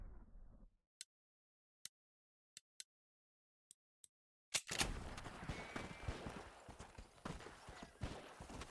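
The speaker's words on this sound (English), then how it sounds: "I hear some gunshots going on over there" Gunshots in the Red Dead Redemption video game: a handful of sharp, isolated cracks spaced irregularly over quiet, followed by a loud burst and a dense, busy ambience of rolling noise.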